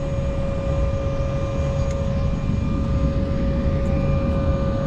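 Steady, droning jet engines hum inside an airliner cabin before takeoff, with a sharp tonal whine, constant and loud, no talking.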